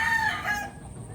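A rooster crows nearby at a poultry pen, one short rising-and-falling call that fades out quickly.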